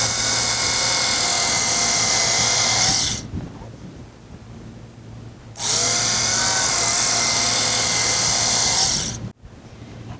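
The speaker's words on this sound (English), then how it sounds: "And then use the rotary cutter" An electric rotary cutter slices fabric bias strips in two long bursts, a loud, buzzing high motor whir that stops for a few seconds between passes, with soft handling noise in the gap.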